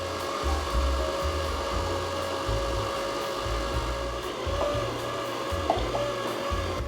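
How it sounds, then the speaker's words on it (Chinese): A stand mixer kneads 300 g of all-purpose flour with yeast water at low speed setting 1, its motor humming steadily beneath a rhythmic, low thumping of the dough, with no talking. "先转低速1段搅拌"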